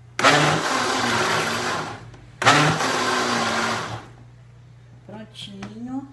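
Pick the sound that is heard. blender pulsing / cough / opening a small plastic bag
blender pulsing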